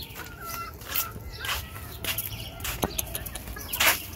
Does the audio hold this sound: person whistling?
no